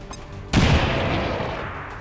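A frag grenade going off in XCOM 2: a sudden loud blast after half a second of quiet, followed by a long, rumbling, debris-filled decay lasting the rest of the moment, with no voices.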